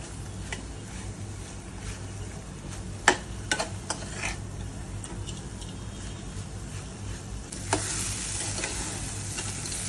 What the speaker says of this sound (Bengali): একটু ভাজা ভাজা করতে হবে ঢেঁড়সগুলো